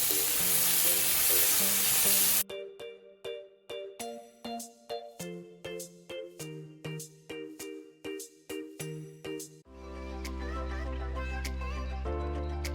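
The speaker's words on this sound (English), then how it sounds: "Saute onions." Onions sautéing in a hot pan, a steady loud sizzle for the first couple of seconds, then giving way to clipped rhythmic tones and a dense music-like passage.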